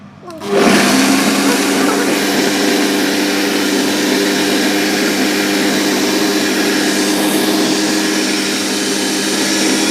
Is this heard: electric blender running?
yes